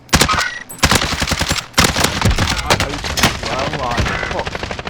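Rapid, loud automatic gunfire from a Warzone match fills the whole stretch in near-continuous bursts with brief gaps, as players talk over it.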